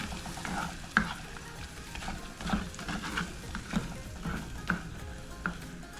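Shallot paste is stirred in a pan for a spicy Kerala tuna fish curry: rhythmic scraping strokes and soft clacks of a spoon repeat over a low sizzle, close and quiet, with no voices.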